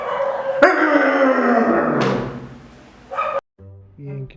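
A dog barks loudly nearby in a few drawn-out, yelping bursts, followed by short whimpering yips, with no talk over it.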